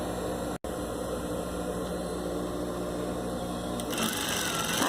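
Sewing machine stitching two towels together, a fast steady mechanical whir running almost continuously, broken by one brief pause, with no voices.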